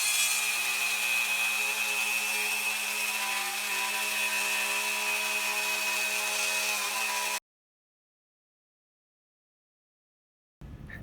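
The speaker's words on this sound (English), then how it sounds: "I use the router sled to put one flat face on both the columns" A router on a sled flattens the face of wooden cabinet columns, a loud steady high whine with grinding bite that cuts off abruptly, then silence before the tool restarts briefly.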